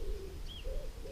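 Birds call outdoors in a small village, with soft cooing notes and a brief high chirp standing out faintly over steady background noise.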